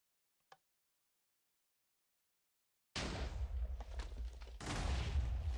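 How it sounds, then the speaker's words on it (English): A Minecraft TNT cannon loaded with 8 TNT firing: a tiny click, near-silence, then a sudden burst of loud, dense rumbling explosions that keep going and swell again toward the end. "here we are loaded up with 8 TNT. Let's fire it and see if we get a agreeable result."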